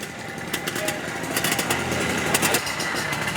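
A small motorbike taxi engine in Santiago, Cuba buzzes steadily at close range, a high revving drone that holds level for several seconds.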